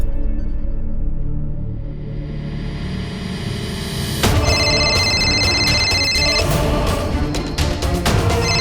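Low rumbling background gives way to a bright, repeating electronic ring that keeps sounding over the noise. No one speaks.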